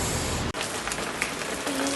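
Heavy rain falling outdoors, a dense continuous hiss with a brief dropout near the start and a faint tonal hum toward the end.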